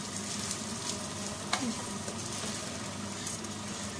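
Rice being sautéed in oil in a pot for a pilaf served with meat and pea stew, giving a steady close sizzle and frying hiss with a faint scrape or stir partway through.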